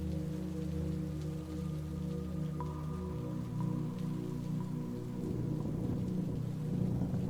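Steady rain patters on surfaces with a continuous hiss and a low rumbling undertone like distant thunder. It grows slightly denser toward the end, with no talking.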